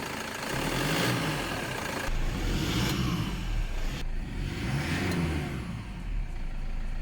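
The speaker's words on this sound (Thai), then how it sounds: "อันนี้ เสียงเครื่องยนต์ก่อนที่จะล้างแอร์โฟครับ" A Toyota Sportcruiser engine runs steadily up close before its airflow sensor is cleaned, its pitch rising and falling through a couple of revs over a constant idle rumble.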